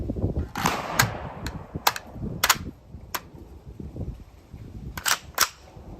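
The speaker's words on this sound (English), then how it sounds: "My friend Nolan is going to show how to load and fire" An FN PS90 rifle is handled and fired, with sharp metallic clicks and a few cracking shots spaced irregularly over steady background rumble outdoors, fairly close, no voices.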